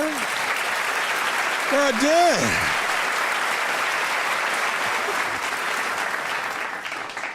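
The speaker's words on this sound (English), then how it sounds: "Can I get a round of applause?" Audience applause at a stand-up comedy show, loud and sustained throughout, with a voice briefly speaking over the clapping near the start.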